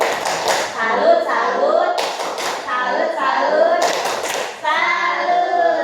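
Teachers and parents clap for Bu Ria at an elementary school meeting in Tulang Bawang Tengah, bursts of group clapping mixed with voices talking and a few children speaking nearby.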